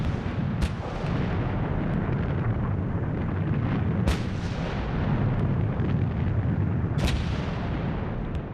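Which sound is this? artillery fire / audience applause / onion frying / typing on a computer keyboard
artillery fire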